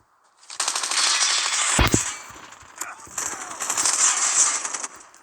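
Machine gun fire in the Call of Duty video game, with long loud rattling bursts broken by a short pause and one sharp crack, close and dense, a voice faintly under the shooting.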